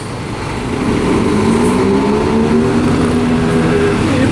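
Scania buses driving out of the factory gate, a steady heavy diesel engine drone building in the first second and then holding loud and close, with no talk.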